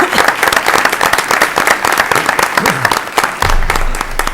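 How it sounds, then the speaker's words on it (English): Audience applause for a group of newly hired teachers at a school board meeting, dense steady clapping throughout that holds evenly with a few louder peaks, no voices standing out. "Give them all a round of applause."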